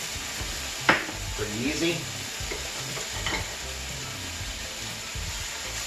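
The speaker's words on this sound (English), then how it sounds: "we're going to throw in our minced garlic" Minced garlic sizzles in olive oil in a pan with a steady fry, opening with a sharp clink of utensil on the pan, while a voice speaks briefly.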